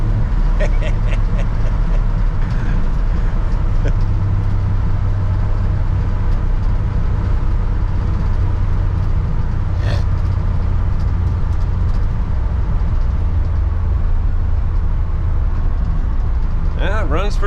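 Inside the cab of a 1960 Ford F100 pickup on a test drive, the engine holds a loud, continuous low rumble mixed with road and wind noise, with a few brief clicks and rattles over the drone.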